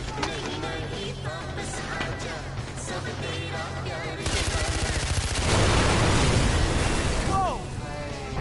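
Video game gunfire: dense, rapid bursts of shots that build louder and rougher through the middle, with voice-like and tonal sounds mixed in early on.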